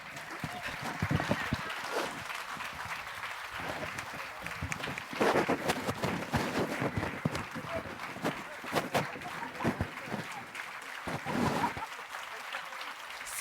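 A conference hall crowd keeps applauding for speakers called back on stage, the clapping swelling and fading in waves while a presenter's voice talks over it through the room.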